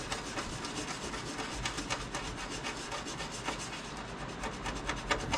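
Rough wood being rubbed smooth by hand, a continuous close scratchy abrasion with rhythmic back-and-forth strokes throughout, alone with no talk.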